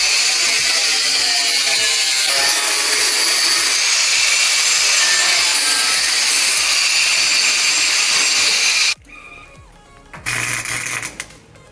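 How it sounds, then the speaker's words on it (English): A welder at work on metal during a 1975 Chevrolet C10 rebuild gives a loud, close, continuous crackling hiss for about nine seconds. It then cuts off abruptly and is followed by shorter, quieter bursts. "We're welding out of a welder right there."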